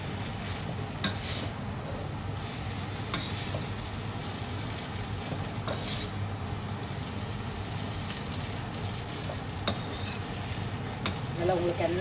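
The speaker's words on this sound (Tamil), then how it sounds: "எடுத்துட்டு நல்லா கிளறி விட வேண்டியதுதான்." Multigrain noodles and vegetables are stirred in a sizzling pan, with a steady frying hiss and occasional scraping clinks of a utensil against the pan.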